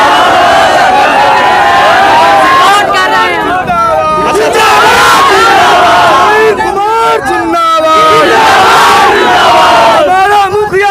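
A dense crowd of supporters of a village council head candidate in India chants slogans in loud repeated call-and-response bursts, close and overwhelming, with voices overlapping and brief dips between chants.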